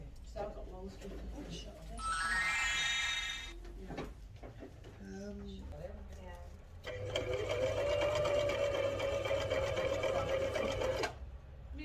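Sewing machine stitching seams in a beginner sewing lesson, two bursts of rapid close mechanical whirring, a short one and then a longer steady run, with people talking in between.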